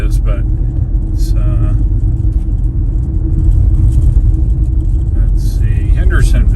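A Ford Mustang Mach-E electric car cruises on the interstate, giving a steady, loud low road rumble with continuous tire and wind noise from inside the cabin and no breaks.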